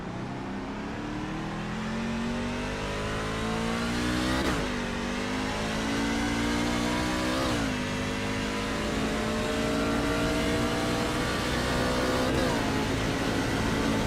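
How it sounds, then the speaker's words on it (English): Race truck engine from Wild West Racing League, Raiders Wasteland Truck Series, revving and droning continuously with pitch sweeps as the truck shifts and accelerates, loud and close throughout. "Hear and feel the car bottoming out from underneath you as you pick up some speed down into the backstretch"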